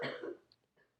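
A sick woman coughs once or twice in the background, a short, muffled, slightly rough burst at low volume from across a quiet room.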